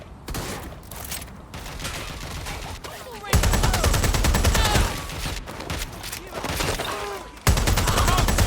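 Gunfire in the Watch Dogs Legion video game: dense bursts of automatic and single shots crackling loudly through the whole stretch, with sudden louder volleys, while voices shout over the combat.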